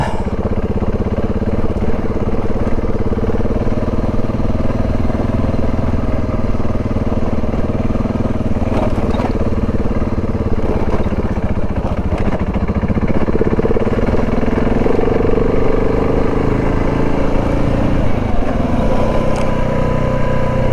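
An adventure motorcycle riding off-road in second gear, its engine drumming loud and continuous close to the rider, with pitch shifting slightly as it climbs and eases.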